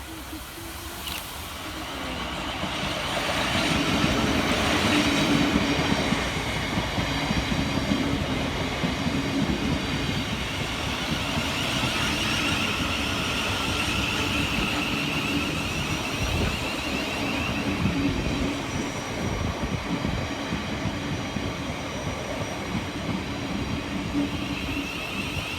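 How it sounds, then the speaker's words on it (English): Southeastern Class 707 pair, units 707016 and 707030, rolling into a station on the Hayes line on a London Charing Cross service, a steady rumble and rattle of wheels on rail that swells early, then holds at a loud, close level throughout. "Arriving next into the station will be 707016 and 707030, with the 1603 Southeastern service of London Charing Cross through to Hayes."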